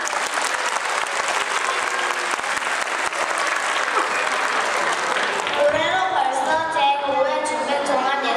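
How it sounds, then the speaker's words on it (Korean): Loud, sustained applause fills a crowded school arts festival opening ceremony, broad and steady, with higher cheering tones rising near the end. "큰 박수 부탁드립니다."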